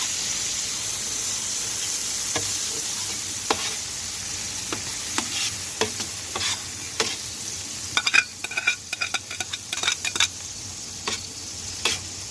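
Tomato sofrito for arròs del senyoret sizzles steadily in a pan while a utensil stirs and scrapes through it, producing irregular clicks over the continuous frying hiss.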